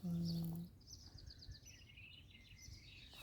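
Small birds chirp and twitter faintly in a vegetable garden, with quick repeated high calls spread across a few seconds behind a brief burst of nearby talk and soft outdoor ambience.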